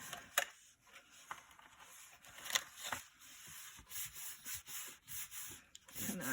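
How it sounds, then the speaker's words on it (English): Leather edges rubbed hard with a burnishing tool, a steady scraping friction in short repeated strokes, close and fairly quiet, with no talking. "gonna burnish that in, and then I do the sides"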